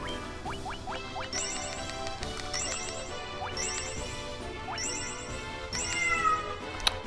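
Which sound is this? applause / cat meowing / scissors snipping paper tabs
cat meowing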